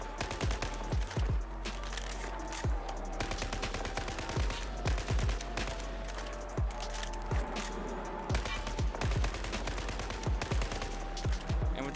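SCAR rifle fire in Battlefield rings out in repeated sharp bursts and single shots, spaced irregularly over a constant background hum.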